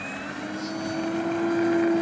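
Steady drone of a 1:7.3 scale model Douglas TBD-1 Devastator engine in flight on its maiden flight, a sustained tone heard at a distance with no talk.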